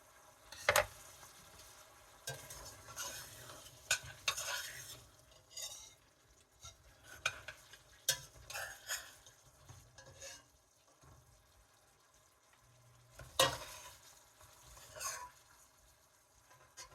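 Jamaican oxtail cooking in a pot, faint low simmer with intermittent spoon scrapes and clinks against the pot, quiet and close, no talking.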